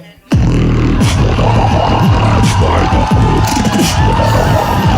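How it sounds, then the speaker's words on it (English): A crowd at a beatbox battle finals erupts suddenly into loud, wild cheering and yelling, sustained at full volume over a pounding bass-heavy beat with sharp whoops cutting through. "Crowd goes insane."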